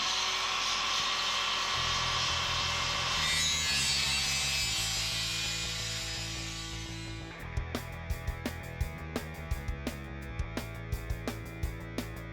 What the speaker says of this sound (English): So Robert's cutting it